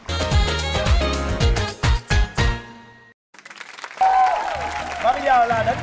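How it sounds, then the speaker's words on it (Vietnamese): An audience at a wedding-style event breaks into loud, sustained applause, alone and close, with a brief silence before another stretch of clapping rises under musical tones. "Xin dành một tràng pháo tay chúc mừng và chúc tụng cho đôi vợ chồng này"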